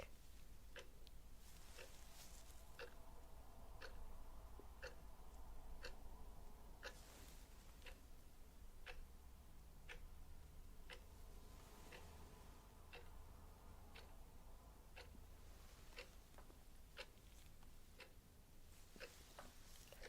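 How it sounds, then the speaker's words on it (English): A clock ticks steadily and close by, each sharp tick evenly spaced under a second apart and sounding alone against a quiet background. "Clock."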